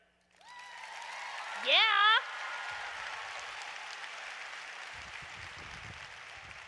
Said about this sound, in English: Clap your hands if you are over the age of 30.